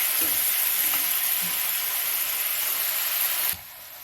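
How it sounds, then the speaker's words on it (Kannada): Onions frying in a pan with a loud, continuous sizzle and hiss, faint stirring scrapes underneath, cutting off abruptly near the end. "ಇದು ಬ್ರೌನ್ ಆಗೋವರೆಗೆ ಒಂದು 2 ನಿಮಿಷ ಹೀಗೆ ಫ್ರೈ ಮಾಡ್ಕೊಬೇಕು"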